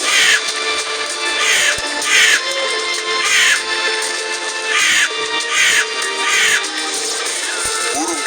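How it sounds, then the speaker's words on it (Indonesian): A crow caws harshly in repeated loud bursts, several rough screeching calls in a loose rhythm, close and alone, portraying a crow burning and crying out in pain. "Seketika burung itu terbakar, berteriak kesakitan."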